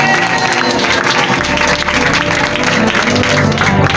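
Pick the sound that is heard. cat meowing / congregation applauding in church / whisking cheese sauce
congregation applauding in church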